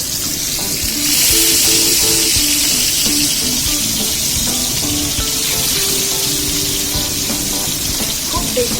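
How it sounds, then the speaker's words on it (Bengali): Parshe fish fry in hot oil at medium heat, giving a steady loud sizzle and hiss that swells after the first second and holds evenly, with some faint kitchen clatter and brief tonal sounds in the background. "এটা মিডিয়াম ফ্রাই হবে, ডিপ ফ্রাই হবে না"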